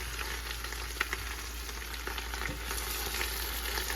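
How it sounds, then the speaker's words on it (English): Steady crackling sizzle of collard greens frying in hot grease, a dense continuous hiss with scattered pops, close up and with no talking. "You can hear them start to sort of saute and fry there."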